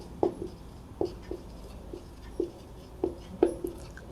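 Pen writing on paper during a class 12 math lesson, six or seven distinct taps and short strokes spaced roughly half a second apart, close and fairly quiet against a faint background hum.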